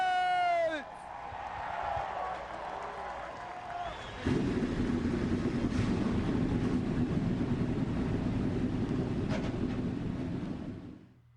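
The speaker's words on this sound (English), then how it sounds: "Driver, start your engines!" Racing truck engines of the Napa Truck Series firing up together at Willow Springs race start, a dense loud sustained roar that kicks in abruptly after a brief lead-in and holds steady to the end.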